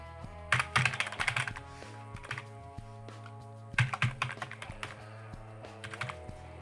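Typing on a computer keyboard, two quick flurries of clacking keystrokes separated by a short pause, close and fairly quiet.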